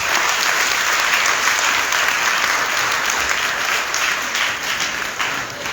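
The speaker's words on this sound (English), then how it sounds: "Let us clap for him." A crowd at a public-sector reform event on a university campus applauds a visiting minister with loud, sustained, dense clapping that holds steady for several seconds before easing slightly at the end.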